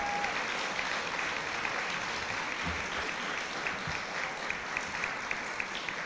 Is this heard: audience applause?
yes